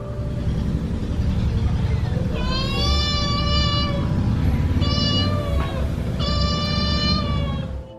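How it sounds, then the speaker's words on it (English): A cat meow played by an Amazon Echo Dot (3rd Gen) smart speaker: three long drawn-out calls spaced a couple of seconds apart, over a low steady background rumble. "meow"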